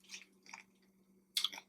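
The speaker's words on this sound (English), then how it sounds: "They chips are just so good." Crunchy in-house made tortilla chips from a taco restaurant are chewed close to the microphone in three short bursts of crisp crunching with pauses between them.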